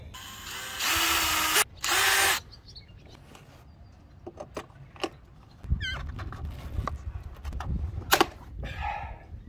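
A DeWalt power drill drives screws aboard a Dufour 31 sailboat, whirring loudly in two short bursts. Softer knocks and handling noises follow, and birds chirp in the background.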